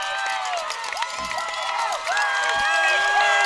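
A crowd at a high school football game, East Central vs Poplarville, yells and cheers continuously, loud and sustained with shouts rising over the steady roar and a few whistles.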